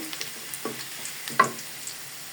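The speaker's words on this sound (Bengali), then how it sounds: "আমি কড়াই বসাই দিলাম, তেল আর পেঁয়াজ দিয়ে দিলাম, কড়া করে একটা বাগার দিই।" Onion frying in oil in a kadai for a khichuri tempering gives a soft, steady sizzle, with scattered small crackles and pops, close but quiet.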